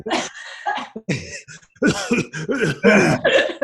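A person coughs and clears their throat in a series of rough, close, hacking bursts with short pauses between, fairly quiet and heard alone without speech.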